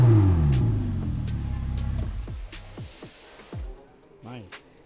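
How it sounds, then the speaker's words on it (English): A Ferrari engine roars, then revs fall and rise in several quick blips before settling, close by with a voice speaking briefly. "Here's the famous sound of the Ferrari."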